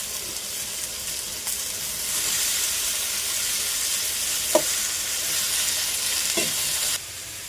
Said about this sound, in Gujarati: લસણ, જીરું, કાળા મરી અને એનો વઘાર કરી